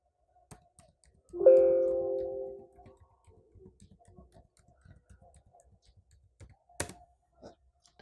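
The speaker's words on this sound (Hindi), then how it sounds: "यहाँ पर कीबोर्ड का जो टाइपिंग साउंड है तो वो आपको सुनाता हूँ" Faint, soft laptop keyboard clicks on an ASUS X415JA tap in a quick irregular run after a brief droning tone, ending with one sharper click.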